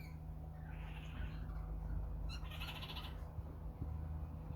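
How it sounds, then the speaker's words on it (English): Red-tailed black cockatoos calling in an aviary, a few harsh squawking calls over a constant low background hum, moderately distant, no talking. "Red-tailed black cockatoos."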